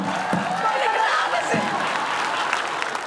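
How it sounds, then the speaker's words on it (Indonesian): A studio audience at an Indonesian comedy game show claps steadily and densely for the whole stretch, with a few voices mixed in under the continuous applause. "Tepuk tangan dong untuk peserta kita dong."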